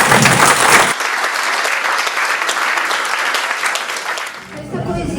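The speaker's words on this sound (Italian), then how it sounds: "E qui l'applauso." Audience applause after a poetry reading about the Genoa Lantern lighthouse at a European Heritage Days event, a dense, steady burst of clapping that fills the clip and tapers near the end.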